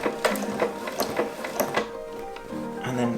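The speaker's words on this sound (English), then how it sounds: "do some locking stitches" A sewing machine runs locking stitches along a baker boy cap seam, with a quick run of rhythmic mechanical clatters, a brief pause, then a short burst of stitching.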